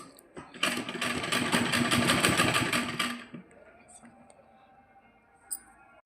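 A sewing machine stitching fabric runs in one fast, steady burst of close, rhythmic needle clatter for about three seconds, then stops, leaving a low hum and a single small click.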